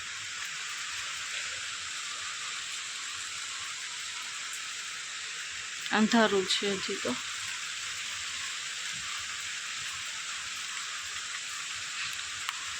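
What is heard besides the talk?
rain falling outside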